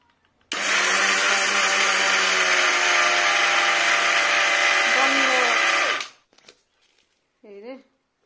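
Mixer grinder churning soaked lentils to loosen their husks, one loud continuous whirring run of about five seconds that cuts off abruptly, followed by brief clatter and a short voice.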